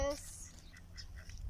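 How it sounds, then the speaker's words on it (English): Ducks quacking by a lake in Outapi, Namibia, where ostriches and chickens roam nearby; a few short quacks stand out over steady outdoor background noise. "oh yes, ducks, ostriches, at the lake."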